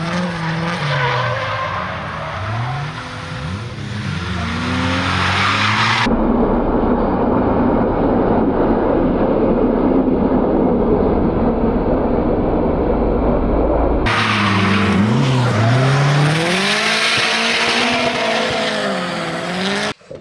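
Engine revs rise and fall with loud tire squeal as a BMW E46 drifts, a stretch of roaring tire screech in the middle, close and continuous.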